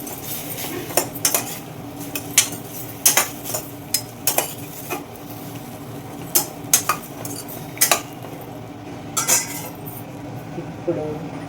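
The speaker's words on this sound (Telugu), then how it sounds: "ఉప్పు, అలాగే పసుపు, మంచి కలర్ రావడానికి పసుపు ఒక్కసారి కలుపుకుందాం." A spoon clinks and scrapes against a metal pan while turmeric and salt are stirred into a Telugu brinjal dal dish, with irregular close taps and scrapes over a low kitchen hum.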